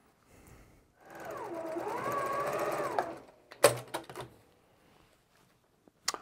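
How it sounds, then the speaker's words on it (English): Sewing machine stitching rows of a quilt block together, a steady whirring run of about two seconds, then a few nearby clicks and handling knocks from the fabric and machine. "we're going to sew these together"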